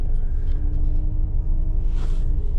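A small car passes on a street in Victoria, Canada, a low steady rumble of engine and tyres throughout, with a faint swell near the end and no voices.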